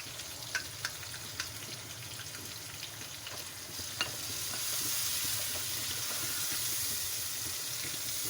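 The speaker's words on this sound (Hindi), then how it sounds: "अब इसको 1 मिनट के लिए भूनेंगे हम मसाले के साथ।" Green chilli salan masala with tomato paste and spices frying in a pan, a continuous close sizzle with occasional sharp stirring taps that grows louder and denser midway.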